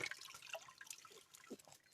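Cold spring-fed stream running all year, trickling and splashing softly close by with small drips and gurgles, fairly quiet and steady throughout.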